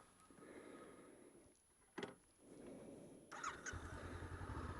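A Honda CB500X motorcycle engine cranks and fires up outdoors, a short burst of starter noise followed by a steady, moderately loud idle that settles in near the listener.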